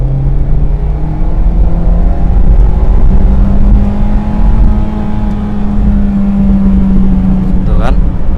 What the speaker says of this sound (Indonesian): Kita coba gaspol ya. Ini gaspol nih.